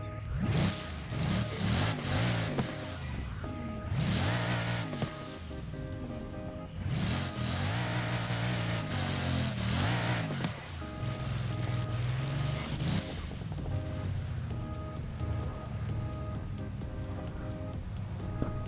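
A Bugatti Divo or Ferrari 599XX Evo in Forza Horizon 4 revs and accelerates repeatedly, its engine climbing and dropping through gear changes, loud and steady over the whole stretch.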